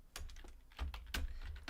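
Quick bursts of typing on a computer keyboard, several close, crisp keystrokes in an uneven rhythm with brief pauses, heard alone without talk.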